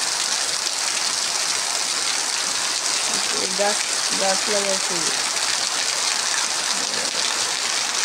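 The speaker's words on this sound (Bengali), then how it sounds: "অনেকক্ষণ ধরে বৃষ্টি হচ্ছে" Heavy rain pours onto a tin roof in a steady, dense hiss that never lets up, while a voice speaks briefly near the middle.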